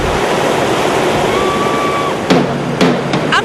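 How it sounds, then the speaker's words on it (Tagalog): Rushing water of the Tibiao River in Antique, a steady broadband roar close to the microphone with no letup, joined near the end by a few brief sharp knocks or splashes. "ang rumaragasang tubig ng Tibiao River sa probinsya ng Antique"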